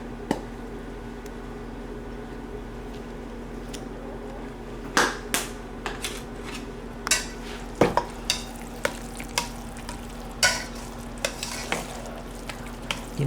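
Cornbread dressing mixture stirred in a pan, with soft scraping strokes and a low steady background hum, then a run of sharper spoon taps and clicks against the pan in the second half, no voices.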